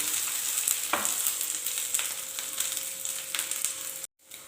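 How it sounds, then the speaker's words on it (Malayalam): Grated coconut and curry leaves roasting in a pan, a steady close sizzle with a few soft stirring scrapes, cut off briefly near the end. "ഒരു കാൽ കപ്പ് തേങ്ങ രണ്ട് രണ്ട് കറിവേപ്പില ഇത്രയും ചേർത്ത് നന്നായിട്ടൊന്ന് മൂപ്പിച്ചെടുക്കണം"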